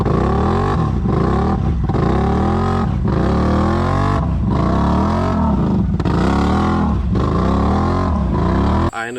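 A truck on an off-road trail rumbles loudly close by, its engine revving in repeated surges as it passes, then cuts off abruptly.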